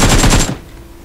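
Rapid automatic gunfire from PUBG Mobile, a loud close burst of about five quick shots lasting half a second before cutting off into near silence.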